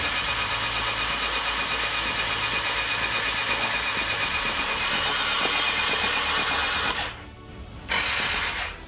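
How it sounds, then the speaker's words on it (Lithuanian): A Suzuki GSF Bandit motorcycle engine being cranked over by the starter, a steady whirring drone that runs for several seconds, briefly cuts out, then resumes. "reik prasokti variklį dabar"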